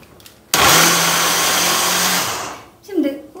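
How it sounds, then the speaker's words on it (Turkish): A food processor grinds leftover hollowed-out cake into crumbs for a mole cake, starting abruptly with a loud steady whir and motor hum for about two seconds, then stopping; a brief voice follows after it cuts off. "Hemen rondomu çalıştırıyorum."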